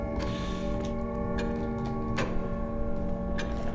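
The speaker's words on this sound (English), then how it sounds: "Even this clock sounds weird now." A clock ticks steadily inside a house in the horror video game Pineview Drive, its regular clicks spaced about evenly through a constant low ambient hum with no talking.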